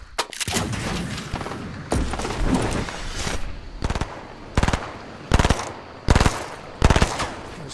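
P90 submachine gun fire in a Fortnite Battle Royale match, loud rapid bursts repeating every second or so, each a dense rattling volley, with a longer stretch of firing near the start.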